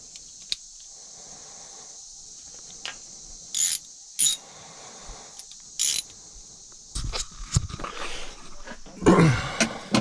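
A 10mm wrench ratchets on a small bolt during a Toyota RAV4 trailer hitch install, giving a few sharp clicks spaced apart, then a burst of rattling metal near the end over a quiet background.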